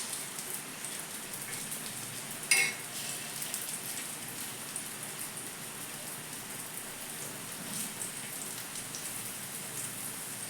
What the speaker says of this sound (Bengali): দেখো কীরকম ভাজা হচ্ছে।